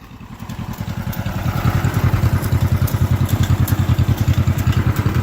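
A John Deere MC crawler's engine starts and settles into a steady, rapid, close-up chugging idle with even pulsing firing beats, running alone without talk.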